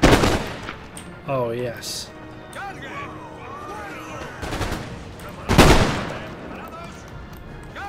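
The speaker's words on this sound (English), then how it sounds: "the Fusiliers, Fusiliers open fire." Fusiliers in Empire: Total War fire ranked musket volleys on a battlefield, with sharp cracking bursts at the start and a louder crash near the middle, while someone talks over the game audio.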